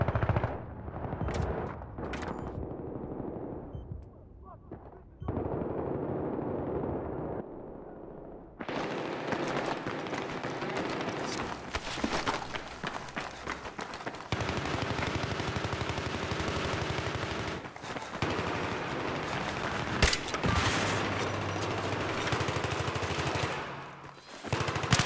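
Gunfire in a Battlefield 3 Metro Conquest match, with dense machine-gun bursts, single shots and explosive blasts rattling through loud, nearly continuous combat, with short lulls early on.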